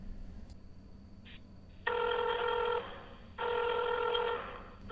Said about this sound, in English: That sounds like I'm dialing an old rotary phone.